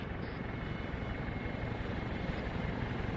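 A helicopter in the ARMA 3 military game thrums in a steady, loud, continuous rotor and engine roar that holds level throughout with no talking.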